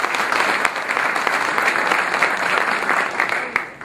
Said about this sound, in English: Let's give a round of applause to your mayor for the great job he's done.